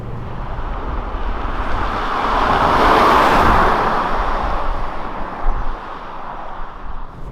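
A Renault Samsung QM6 LPe LPG-fuelled SUV with an Xtronic CVT driving on an ordinary road, giving a steady broadband road and engine hum that swells toward the middle and eases off again, with no voices.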